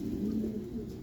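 Racing pigeons coo softly and continuously nearby, a low, rolling burbling sound held steady throughout, with no talking over it.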